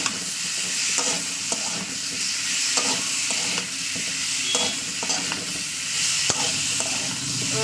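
Tomato pieces sautéing in oil with turmeric in a pan for a snakehead fish curry, a constant close sizzle broken by repeated scraping knocks of a spoon stirring against the pan, with no talking.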